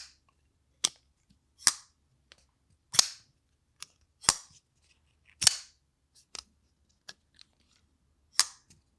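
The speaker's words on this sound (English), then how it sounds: "How does this knife sound?" A Civivi Exone reverse tanto folding knife is flicked open and snapped shut repeatedly. Sharp, close metallic clicks and snaps ring out one at a time at irregular intervals against near silence.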